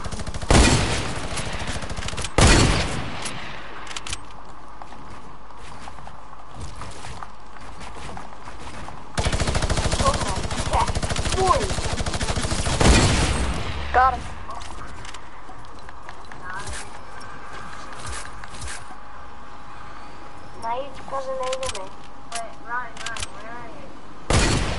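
Gunfire in a shooting video game, with loud bursts of fire recurring through the stretch amid game sounds and a player talking.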